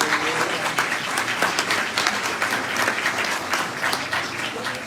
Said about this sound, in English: So give the city council a big round of applause